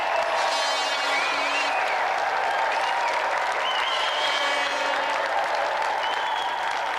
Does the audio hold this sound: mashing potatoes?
no